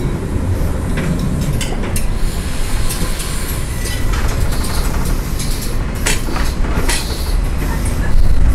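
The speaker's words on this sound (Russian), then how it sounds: "О, трамвай едет." A tram rolls past on an Istanbul street, a loud, continuous rumble and rattle of wheels on rails filling the whole stretch, close by and steady, with faint higher clatter on top.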